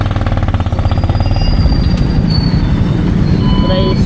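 Motorized tricycle ride, a loud rattling engine drone with a steady pulsing rhythm close up, metallic squeals and road noise over it, with a voice faintly heard.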